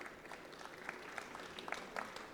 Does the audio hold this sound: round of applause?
yes